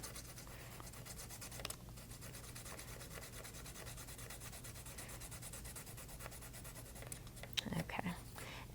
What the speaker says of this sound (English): I'm still using the side of the pencil, particularly with the H pencil, which is quite hard.